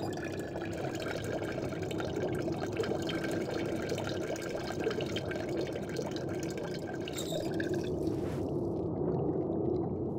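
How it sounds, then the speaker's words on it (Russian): Water runs steadily into a sink in a video game, a continuous close hiss and splash with no talk over it. "Нам нужно его сначала водой намочить в раковине."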